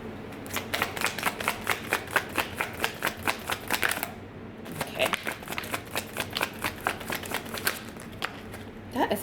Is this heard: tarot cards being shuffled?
yes